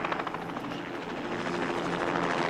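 Helicopters in the 1977 film Close Encounters of the Third Kind: a loud, steady rotor chop and engine roar that holds at constant strength throughout, close and unbroken.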